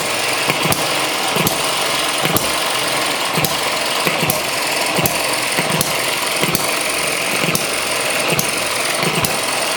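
ET6 hit and miss stationary engine running steadily after a valve fault was fixed, close and loud, with regular sharp firing beats about every half second over a constant mechanical clatter; nobody speaks.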